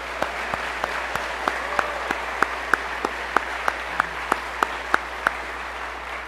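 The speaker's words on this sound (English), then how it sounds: "Give yourself a round of applause." Audience applause at a Boys State memorial service ceremony, a thin, steady patter with a few sharp individual claps standing out, fairly close and continuing for several seconds without speech over it.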